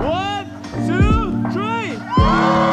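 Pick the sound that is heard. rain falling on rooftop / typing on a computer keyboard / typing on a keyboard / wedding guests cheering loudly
wedding guests cheering loudly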